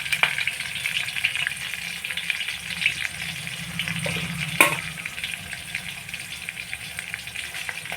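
Curry leaves and green chilies sizzle steadily in hot oil for tamarind rasam, a close crackling fry with a sharper burst midway as leaves hit the oil, then a calmer simmering hiss, with no one speaking.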